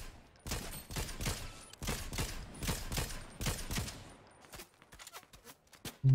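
Rapid bursts of gunfire in the shooter game Fortnite, with several rattling volleys in a steady rhythm, then sparser, separate shots near the end, fairly close and with no talk over them.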